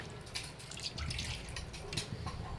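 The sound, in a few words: pouring water into mutton curry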